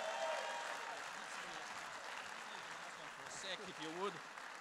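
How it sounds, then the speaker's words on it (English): Gala dinner audience gives a round of applause for a volunteer singer at a ventriloquist's show, a steady wash of clapping throughout with a voice cutting in briefly near the end. "Big round of applause."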